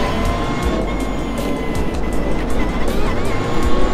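Race car engine in a racing simulator video game, steady loud roar with pitch shifts as the car brakes hard into a corner and trails toward the apex, no talk.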